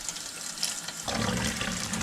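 Water pours steadily from a tap into a container to dilute a toilet bowl cleaner mixture, a quiet hiss that turns into a fuller, louder splashing rush halfway through.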